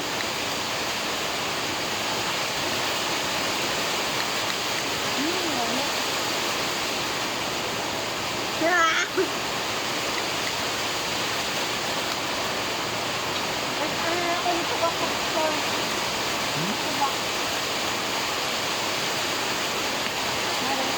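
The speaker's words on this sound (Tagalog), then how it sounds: "Kusog ang ulan, kusog ang ulan." Heavy rain pours in a steady, loud, broadband roar that runs unbroken throughout, with a brief clatter near the middle and faint voices underneath.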